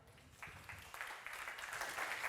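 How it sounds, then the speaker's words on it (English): Audience at a conference applauding Astria CEO Josh Bowen as he is introduced, clapping starting sparse and building into a fuller, steady round that grows louder toward the end. "give a round of applause to CEO of Astria"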